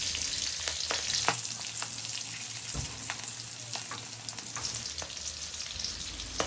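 Green chilies and bay leaves fry in hot oil left from frying pointed gourd, making a dense, bright, steady hiss with occasional crackles and spatula ticks, close and constant, no speech.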